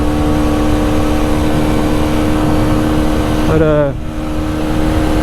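MZ TS125 motorcycle engine accelerating in fourth gear at about 40 mph, a steady loud two-stroke drone with rising harmonics, then a brief dip near the end as the throttle eases; a single short word is spoken.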